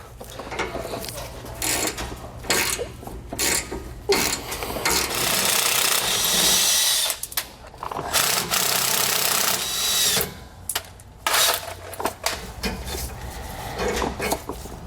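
U-bolt nuts being removed with a 13mm socket on a power tool while fitting a steering stabilizer on a 2018 Jayco motorhome, heard as several loud whirring bursts close by, separated by short pauses and clicks.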